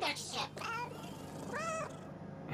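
A cartoon cat in the video game Gori: Cuddly Carnage lets out two short rising meows, close and clear over a steady game soundtrack hum.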